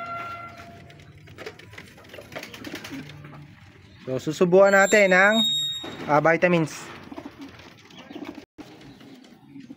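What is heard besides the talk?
young pigeons cooing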